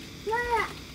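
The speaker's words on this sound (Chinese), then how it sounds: "啊，看见小猫啦" A small cat gives a single short, clear meow, rising then falling, at moderate distance over a quiet outdoor evening background.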